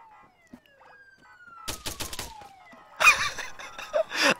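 A police car siren in the video game Arma 3 wails in a long falling sweep, with bursts of sharp cracking gunfire and clatter cutting in over it from midway on.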